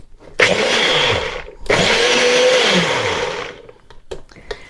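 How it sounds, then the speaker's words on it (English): Blender blitzing oil with lemon pulp for a lemon and polenta cake, two loud whirring bursts separated by a brief pause, followed by faint clatter as the motor stops. "just giving that a quick blitz"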